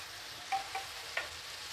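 Soft, continuous sizzle of chopped onion, green chilli and coriander frying in a pan, with a few light stirring scrapes and taps, close but quiet.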